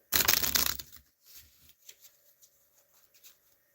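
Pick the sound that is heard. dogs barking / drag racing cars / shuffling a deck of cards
shuffling a deck of cards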